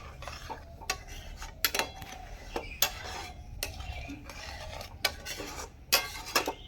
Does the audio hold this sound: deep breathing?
no